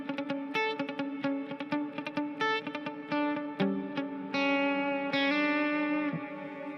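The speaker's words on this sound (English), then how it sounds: "Let's make the reverb a little more drastic so you can really hear it a lot better." Distorted electric guitar through a Headrush pedalboard plays a choppy run of notes, then sustained chords ring out with a long, washy reverb tail trailing behind them.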